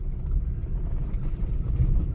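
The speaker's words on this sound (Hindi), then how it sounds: "इधर गाड़ी खड़ी करता हूं।" A car's engine idles with a low, steady rumble as it is parked at night, close and continuous with no voices.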